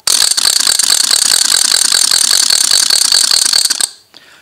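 A hand-cranked wooden ratchet rattle noisemaker from Britain, the kind used at protests, spun rapidly for nearly four seconds in a loud, dense, close clatter of fast clicks, then stopping abruptly.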